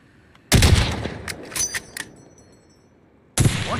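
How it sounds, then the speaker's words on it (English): Gunfire in a video game cracks close and loud in a sharp burst with a trailing echo, then fades before another shot erupts at the end, with no voices. "Somebody just shot right there."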